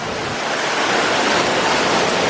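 Steady broadband rush of falling water from waterfalls along a themed ride queue at Walt Disney World's Magic Kingdom, a dense continuous roar close by with no voices.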